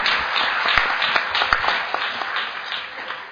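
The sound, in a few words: audience applause at a rally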